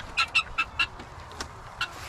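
Hens clucking in a farm coop during feeding and egg collection: a quick run of four or five close, sharp clucks, then a couple of softer, scattered ones.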